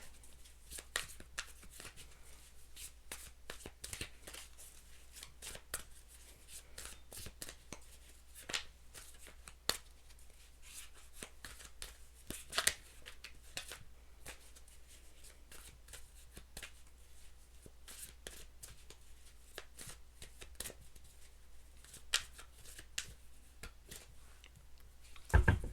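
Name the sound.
shuffling cards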